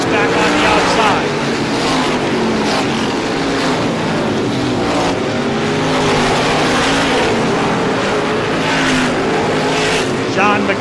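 Race cars roar continuously at Star Speedway during an ISMA Classic 150 race, a loud, dense engine drone with surging passes, while a commentator talks over it throughout.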